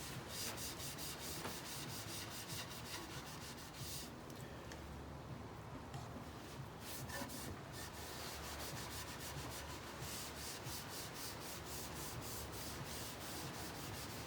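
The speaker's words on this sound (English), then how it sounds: "all I'm really doing is just rubbing it on" Wood stain is rubbed by hand onto a server cabinet door, giving a steady, close, continuous rubbing and swishing texture throughout with no pauses.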